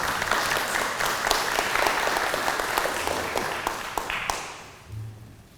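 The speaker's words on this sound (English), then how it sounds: "can we have a round of applause for John?" An audience at a history lecture applauds a speaker, with dense steady clapping that fades away near the end.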